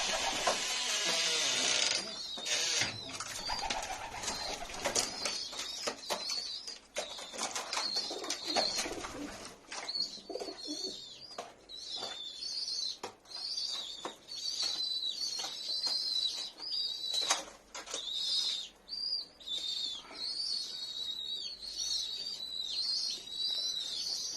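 Racing pigeons stream out of a three-compartment coop, with a burst of wing flapping at first, then repeated close cooing and rustling, and scattered sharp knocks throughout.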